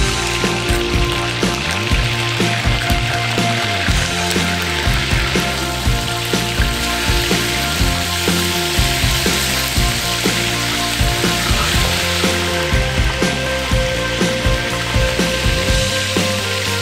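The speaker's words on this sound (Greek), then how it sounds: "Σοτάρουμε τα κοτόπουλα σε μια κατσαρόλα μέχρι να πάρουν πολύ ωραίο χρώμα" Steady sizzling and crackling of chicken sautéing in a hot pot, continuous and close, with dense popping throughout and no talking.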